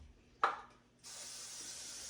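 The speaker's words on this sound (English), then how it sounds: "It's butter flavored, no stick spray." Butter-flavored non-stick cooking spray hisses from a can onto eggs in a pan, a brief puff followed by a steadier, quiet spray, close up with no talk.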